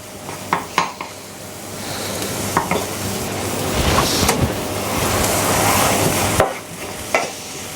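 Steady sizzling of onions and garlic frying in a hot pan with occasional clatter of a utensil stirring, close and continuous, no voices.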